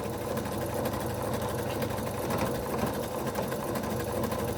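A sewing machine runs continuously on a finishing seam, its rapid mechanical stitching rattle close and steady throughout, with no talking.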